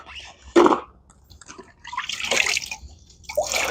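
Wet microfiber mop pads with Velcro backing wrung out by hand over a sink, giving bursts of dripping and splashing water with squeezing sounds, close and fairly loud.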